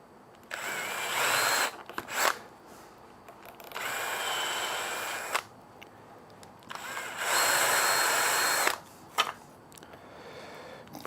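A drill boring a countersink with a Forstner bit, heard in three loud sustained bursts of several seconds each with short quiet gaps and brief blips between, close and alone.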